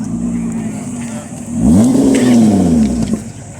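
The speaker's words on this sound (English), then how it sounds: "Great sounding engines too." A Lotus Evora GT sweeps past with its engine revving, the pitch climbing and then falling as it goes by. The sound is loud and close, rising to a full roar midway and set against outdoor crowd noise.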